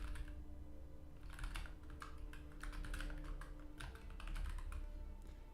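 Rapid typing on a computer keyboard during game development work, a steady close clatter of keystrokes in quick irregular bursts, alone with no voice.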